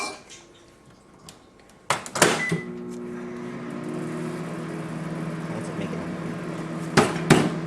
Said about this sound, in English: you get a microwave. And you will put this in here for like 30 seconds